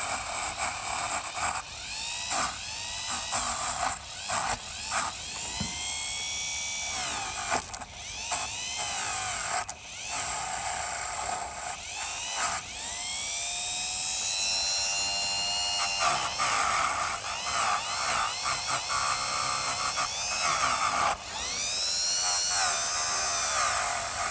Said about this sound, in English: we can use the rotary brush on the drill or Dremel kind of device